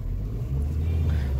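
A car rolls in through a gate, its engine a low steady rumble that swells slightly, close by and without talking.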